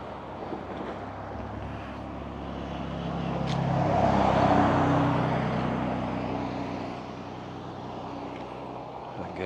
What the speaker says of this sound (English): Another taxi again, another maxi taxi. Very busy.